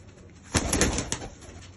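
Racing pigeons give a close, moderately loud burst of throaty cooing lasting under a second, with a few pulsing notes and then a short trailing call over faint background noise.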